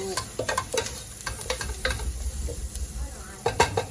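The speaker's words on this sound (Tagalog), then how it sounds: "Ayan, halo-halo natin. Halo-halo." Chicken soup ingredients being stirred in a pot, giving repeated scraping and clinking strokes at a steady, moderate level with a faint sizzle beneath and no talking.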